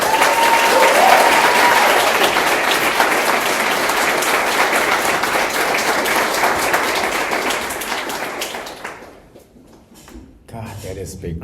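Audience applause welcoming a speaker at an art forum, dense and loud clapping that holds steady, then fades out near the end before some brief low sounds.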